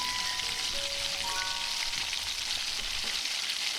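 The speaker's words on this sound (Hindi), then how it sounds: "अब हम इन विंग्स को फ्राई कर लेंगे" Chicken wings fry in oil in a wok over a medium-low flame, giving a steady close crackling sizzle that holds evenly throughout with no speech.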